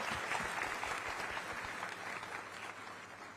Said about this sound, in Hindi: तो खल लिए ताली बजाओ पहले।